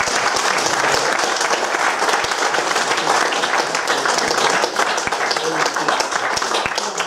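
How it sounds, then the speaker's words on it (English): A humanist society audience gives a sustained round of applause for a speaker after a talk on evolution and ethics. The clapping is full and steady throughout, with occasional louder individual claps standing out. "Will you please give Greg another big round of applause?"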